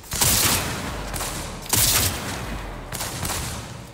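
Three loud bursts of rapid gunfire in the video game Cyberpunk 2077, each a sharp crack trailing into a short rattling echo, spaced about a second and a half apart with no talking.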